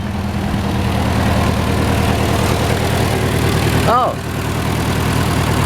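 A Datsun B210 engine runs steadily near at hand, its exhaust blowing hard out of the muffler in a constant low rumble; a brief voice cuts in near the end.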